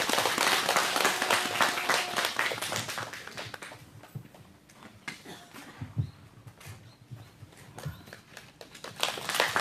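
Crowd applause at an outdoor protest rally, with dense, scattered clapping that swells at the start, eases through the middle, and rises again toward the end.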